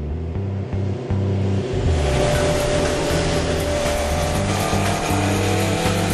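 A 1969 Honda CB750 Four, an inline four-cylinder superbike, is revved, its engine note building from a lower drone to a loud sustained roar mixed with background music, with no speech.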